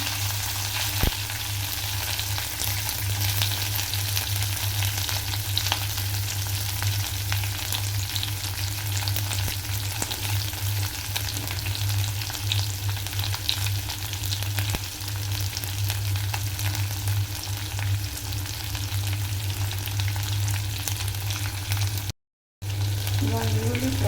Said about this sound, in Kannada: ಈಗ ಈರುಳ್ಳಿ ಹಾಕ್ತಿದ್ದೀನಿ.